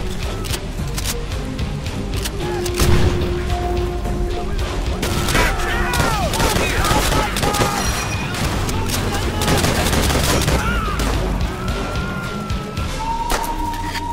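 Grenade explosions and rapid gunfire in the World War II video game Call of Duty, loud continuous battle noise with booms and bursts while someone talks over it.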